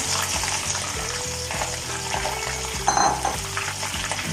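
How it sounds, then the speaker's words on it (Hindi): Steady sizzling of chicken mince frying with ginger and garlic in a hot pan, with rhythmic scraping and stirring clatter, close and continuous. "कीमे को अदरक लहसुन के साथ भून लेंगे।"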